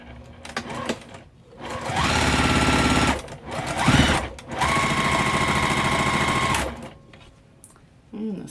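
Sewing machine stitching crazy house quilt block pieces, several sustained runs of rapid mechanical whirring separated by short pauses, loud and close.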